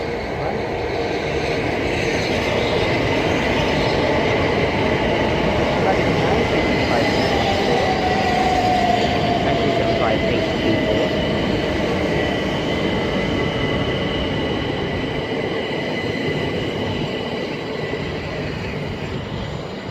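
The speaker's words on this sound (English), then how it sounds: "the 1442 Southeastern service from London Victoria to Ramsgate" A Southeastern passenger train from London Victoria to Ramsgate runs through Sittingbourne station, giving a loud, steady rumble and rolling clatter of wheels that holds for the whole stretch, with no talk.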